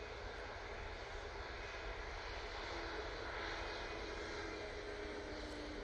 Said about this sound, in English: Ryanair's just arrived